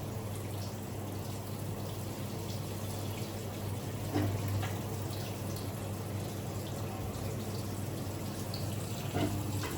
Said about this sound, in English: So water is coming out.